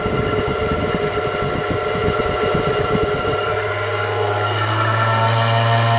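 A Dremel rotary tool spins a small centrifuge at low RPM, giving a loud, continuous motor whine with a rough rattle that smooths into a steadier hum partway through.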